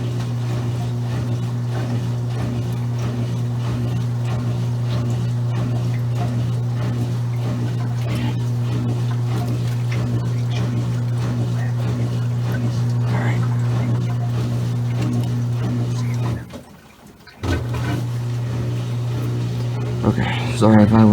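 A Maytag washer spins at around 1160 RPM in its spin cycle, giving a steady, loud, droning hum with a brief dip near the end. The machine is heard alone.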